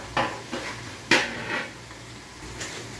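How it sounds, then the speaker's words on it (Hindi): Onions for chicken biryani being stirred in a pot, with a few separate metal scrapes and clinks of the spoon against the pot, spaced irregularly and fairly close. "प्याज को आहिस्ता आहिस्ता हिलाते रहना है, इसको थोड़ा ब्राउन करना है"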